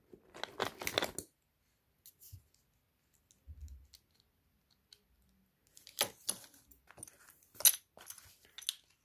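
Small keychains from a collection, one with a baby figure inside, clinking and clattering as they are handled, with loose parts dropping in short, sharp bursts separated by quiet gaps.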